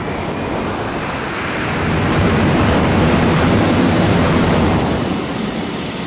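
Jet plane engine roaring during takeoff in the Arma 3 video game, a loud steady broadband rush that swells slightly midway and holds without any talk.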